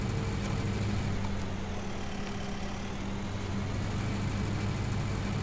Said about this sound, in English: But this tractor will be able to do it okay.